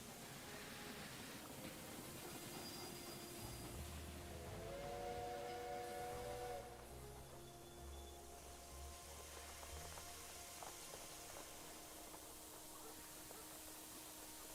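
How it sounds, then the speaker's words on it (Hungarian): A steam locomotive sets off in the railway-building game Railway Empire 2, with a whistle tone and chuffing rumble over a steady hiss of in-game ambience and no talk. "elindul a vonat."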